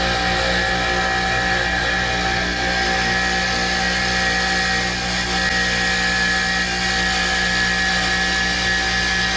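A bench grinder or wire wheel cleaning old wheel cylinders from a Plymouth Fury gives a steady, loud, humming motor whine that runs continuously without pause.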